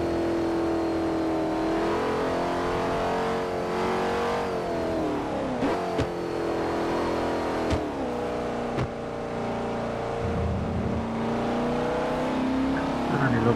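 A car in Forza Horizon 4 cruising through an online lobby, its mid-pitched engine droning and revving steadily with shifts in pitch as it accelerates, loud and continuous, with occasional thuds.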